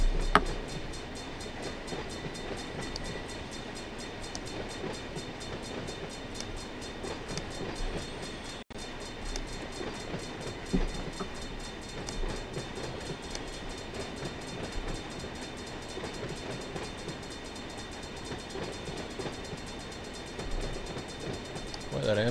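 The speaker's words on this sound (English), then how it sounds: "Boy, that Amtrak's staying a long time" Amtrak train in the Run8 V2 train simulator, a low, steady rail rumble with faint clicking, fairly quiet and continuous throughout.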